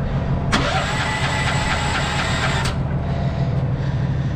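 An engine cranks and fires into a steady running roar that cuts off after about two seconds, with fuel just turned on; loud and close, then fading to low rumble.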